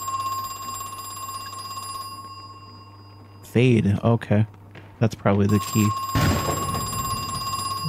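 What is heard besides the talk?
telephone ringing in the video game Crow Country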